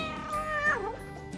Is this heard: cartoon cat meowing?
yes